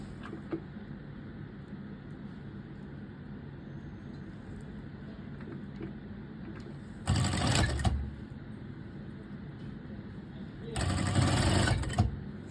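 Two short bursts of a sewing machine stitching a zipper onto a sequined strapless dress, each about a second long, over a steady low background hum with faint talk.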